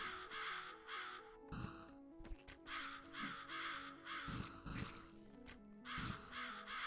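Crows caw repeatedly in a fantasy action video game, a flock of harsh rhythmic calls over steady game music, moderately loud and close.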